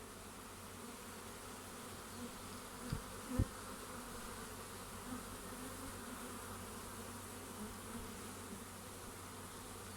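Wild honeybee swarm clustered in a ball in August, giving a faint, steady buzz throughout, with a couple of brief soft knocks near the start.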